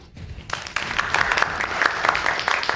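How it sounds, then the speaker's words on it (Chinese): An audience at a law firm gathering breaks into applause, the clapping starting after a brief pause and then staying dense, steady and close to the end. "再次响起掌声"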